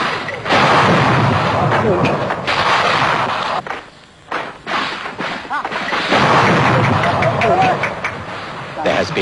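A bazooka fires in jungle fighting with Karen fighters as the undergrowth catches alight. Loud, broad blasts and rumbling bursts fill the scene, broken by a short lull, with voices faintly mixed in.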